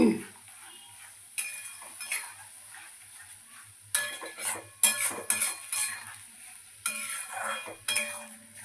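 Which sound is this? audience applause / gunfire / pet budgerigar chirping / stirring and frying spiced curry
stirring and frying spiced curry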